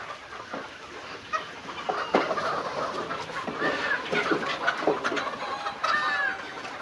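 Fayoumi chickens cluck on a farm in a busy, overlapping chorus of short, moderately near calls with scattered louder squawks, with no talking.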